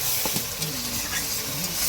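Onion, garlic, ginger and tomato frying in oil, a loud close sizzle with stirring scrapes of a spatula in the pan.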